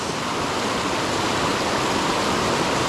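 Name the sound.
creek water flowing in Hibernia Park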